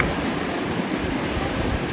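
A waterfall on a hiking route roars as a steady broadband rush of falling water, continuous and fairly close, with no voices.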